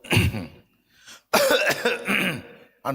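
A few sharp coughs in a church congregation, coming in short bursts with brief pauses between them, close and fairly loud.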